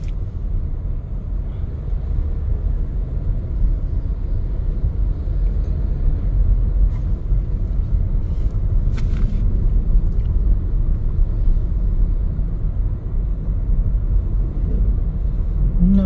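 On a road between Bacong and Dumaguete City, vehicles with loud exhaust mufflers give off a steady, heavy low rumble that never lets up, with traffic passing close by.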